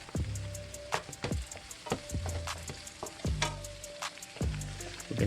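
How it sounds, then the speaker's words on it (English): Rice noodles for Filipino pancit bihon being stirred and tossed in a pan, with a soft background sizzle and sharp, fairly regular clacks and scrapes of the utensil against the pan, no talking. "Mix well, keep stirring,"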